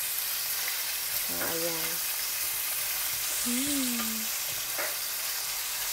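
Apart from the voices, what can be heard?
pork stir-frying with garlic and onion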